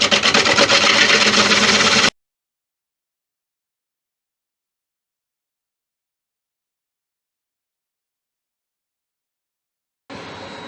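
A woodturning tool cuts away the tenon on a jet-black wooden bowl, giving a loud, steady rasping scrape for about two seconds before abrupt silence, with a shorter burst of cutting returning near the end.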